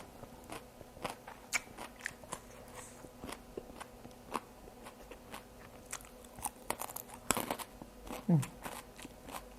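Crisp, crunchy chewing of Lao-style papaya salad, a steady run of close biting crunches and crackles at irregular rhythm, with faint murmuring in the background.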